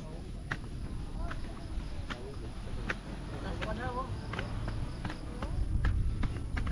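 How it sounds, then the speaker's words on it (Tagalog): Horse hooves clop in an irregular, moderately near rhythm on a mountain hiking trail on Mt. Brigino in Bulacan, heard beneath steady conversation among hikers. "Ang kabayo."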